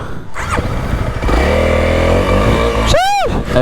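A motocross dirt bike on a ride in Thailand revs hard up close, its engine climbing and holding a loud, rough pitch, then a sharp whine sweeps up as the throttle blips near the end.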